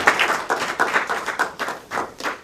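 A small audience claps for a 48-Hour Film Project producer, a fairly close, uneven scatter of hand claps running briefly with no talking over it.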